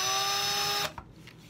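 A small drill boring a hole in a button gives a steady, high mechanical whine that stops abruptly partway through, leaving faint handling noises.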